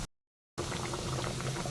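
Fasting ladoos bubble and crackle in hot oil, a dense, steady frying patter heard up close after a brief moment of silence at the start.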